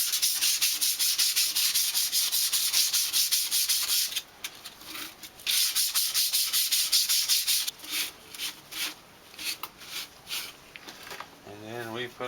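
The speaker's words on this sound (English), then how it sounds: "just a little bit of light sanding." Light hand sanding of the finish on a wooden kitchen utensil holder, with close rapid back-and-forth rubbing strokes in long runs, then shorter separate strokes, and a voice briefly at the end.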